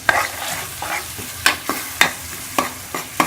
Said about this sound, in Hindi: इसको हम मिक्स करके अच्छी तरह से भून लेंगे सारे मसाले को